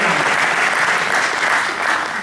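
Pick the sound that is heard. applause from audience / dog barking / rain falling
applause from audience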